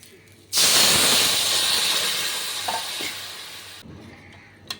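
Boiled matar dal hits a hot pan for a South Indian style dal, bursting into a loud, close hissing sizzle that holds for about three seconds and slowly fades before cutting off, with no talk.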